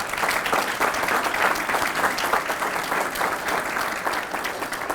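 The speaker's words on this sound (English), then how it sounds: "So let's give his church members a round of applause." An audience at a church tribute to a Tuskegee Airman breaks into dense, sustained applause, many hands clapping together at an even loudness for several seconds with no voices above it.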